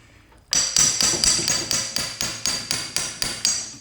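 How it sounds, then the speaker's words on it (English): An impact driver backs screws out of a cover on a vintage Honda twin motorcycle engine during top-end disassembly. About a dozen sharp, evenly spaced hammering bursts rattle close by after a brief quiet start. "So here we got impact driver. That's easy. Comes right out."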